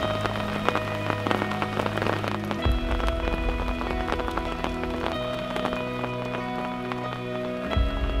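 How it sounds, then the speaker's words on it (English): Heavy rain pours steadily at a carp fishing lake in Yateley, drumming loudly and continuously on a nearby surface such as an umbrella shelter, with no voices. "The heavens opened and it chucked it down. Absolutely chucked it down."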